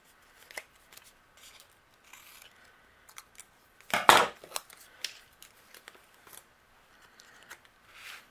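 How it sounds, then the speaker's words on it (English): Scissors trim the edges of paper for a birthday card, with one brief, close snip standing out among faint rustling and handling sounds in a quiet room. "then I will trim the left and the right"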